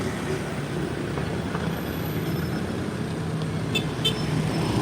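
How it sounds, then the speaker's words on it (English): Cars turn through a busy street in Thao Dien, District 2, a continuous rumble of passing engines and road noise, with a couple of short horn toots near the end. "So many cars turning here and there's nothing stopping for us."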